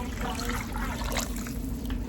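Water pours steadily into a pot for chicken broth with a ham bone and vegetables, a continuous close splashing trickle in a kitchen.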